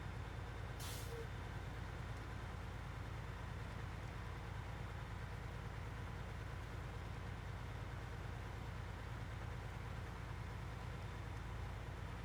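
An idling P12 truck engine in the SnowRunner video game makes a steady low rumble throughout, with one short, sharp air brake hiss near the start.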